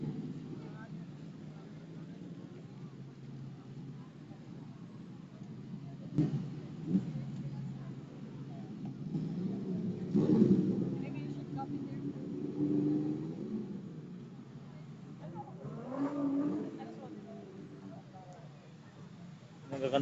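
Two or three big bike motorcycles arriving on a busy street at Bonifacio High Street, engines rumbling and swelling as they pass fairly close, with steady crowd and traffic noise and people talking throughout.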